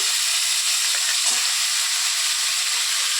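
Potatoes and other vegetables going into a hot pan with radhuni tempering for a mixed shukto release a loud, steady, close hiss of frying that holds without pause throughout.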